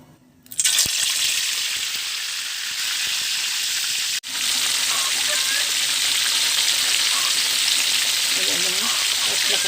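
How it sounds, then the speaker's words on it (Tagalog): Loud, steady sizzling of pork belly frying in hot oil for lechon kawali, starting abruptly and continuing close up with a brief interruption midway, faint speech underneath. "mainit na ang ating mantika at magsisimula na tayong mag-prito"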